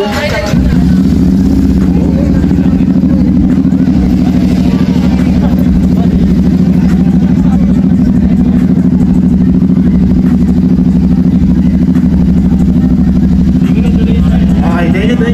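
A Royal Enfield classic motorcycle at a classic motorcycle show in the Philippines runs close and loud, its engine holding a steady, heavy throb for the whole stretch while a crowd murmurs underneath.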